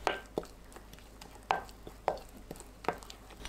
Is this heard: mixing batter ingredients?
yes